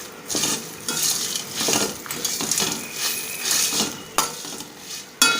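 Washed curry leaves dropped into hot oil in a pan for a Tamil curry, a crisp close sizzle with repeated scraping and clinks of a metal spoon stirring against the pan.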